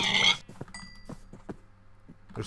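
Pigs in the Minecraft video game give a few short, quiet grunts and oinks, spaced irregularly over a faint background.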